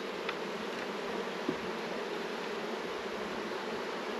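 Honey bees hum steadily around an opened hive during an inspection, a dense continuous buzz at even loudness with occasional nearer individual bees passing.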